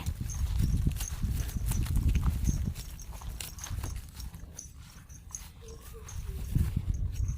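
Hooves of a horse-drawn cart clip-clop steadily along a road, a rhythmic run of hoof strikes over low rumbling background noise, with no talking.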